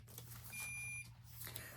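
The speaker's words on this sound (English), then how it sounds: "It's my printer deciding to shut off." A faint high electronic beep holds for about half a second amid quiet room hum, followed by a couple of tiny chirps.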